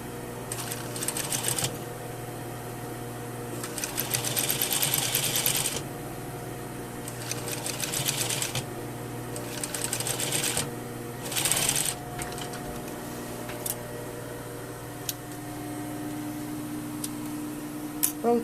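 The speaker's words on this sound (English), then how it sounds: "you're going to lift and sew on the first seam we did" A sewing machine stitches a welt pocket seam in several short bursts of rapid mechanical chatter separated by pauses, close up over a steady low hum.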